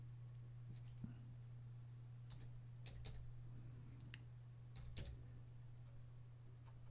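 A few sparse, quiet keystrokes on a computer keyboard as a confirmation code is typed in, over a steady low electrical hum with no talking.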